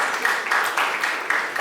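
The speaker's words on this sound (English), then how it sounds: "a round of applause" Dense, steady crowd applause at a film trailer launch event, loud and close, with continuous overlapping claps for a short burst.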